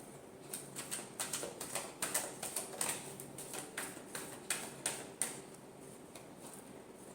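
Tarot cards being shuffled quietly, a run of soft irregular riffling clicks and taps close by that come in short bursts and trail off toward the end.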